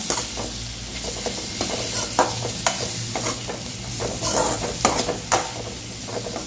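Spoon stirring turmeric powder into cucumber pieces frying in oil for a mor kuzhambu, with repeated scraping clinks against the pan over a steady close sizzle and a low background hum, no talk.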